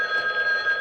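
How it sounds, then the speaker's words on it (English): A wrist communicator rings with a steady electronic trill, continuous and fairly clear for under a second, with no voices over it. "My other wrist is ringing."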